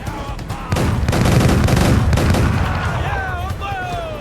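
Pirate ship cannons in Assassin's Creed Black Flag fire in a loud sustained barrage of booming blasts and crackling impacts, rumbling on as the volley fades out.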